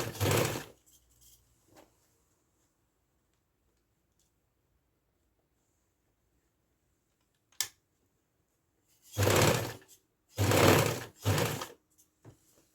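A sewing machine stitches the edge of a fabric bag in a few short close bursts of rapid whirring, separated by long quiet pauses and an isolated click or two.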